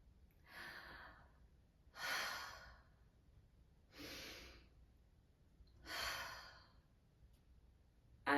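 Loud breathing during a ballet port de bras: four slow, airy breaths, each a long breathy exhale about two seconds apart, close to the microphone, over quiet room hiss.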